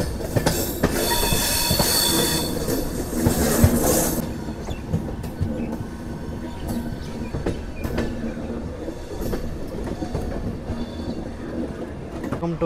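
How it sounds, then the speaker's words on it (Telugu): Passenger train taking a curve on the approach to Katpadi, wheels squealing in shrill bursts over a loud, continuous rolling rumble and clicking rail joints, heard close from on board. "కాట్పాడికి వెళ్ళేటప్పుడు చూసుకుంటే మన ట్రైన్ బ్యూటిఫుల్ కర్వ్ అయితే తీసుకుంటుంది"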